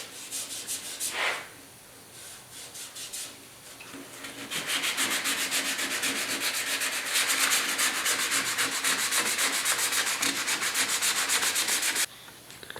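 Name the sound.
sanding red glaze filler on 1972 Ford pickup tailgate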